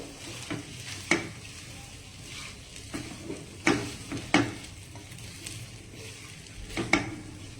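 Green onions being stirred into cheese corn rice frying in a pan, with a steady soft sizzle broken by several sharp scraping and clinking spatula strokes at irregular intervals, close and fairly quiet, no talking.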